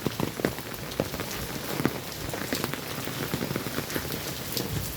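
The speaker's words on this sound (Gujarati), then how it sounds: "ફૂલ બાકાજી બોલાવે વરસાદ" Heavy rain in Jamnagar city pounds down hard, a loud dense patter of drops striking surfaces nearby, steady throughout with no voices.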